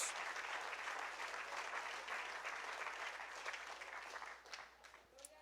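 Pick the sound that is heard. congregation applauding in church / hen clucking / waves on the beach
congregation applauding in church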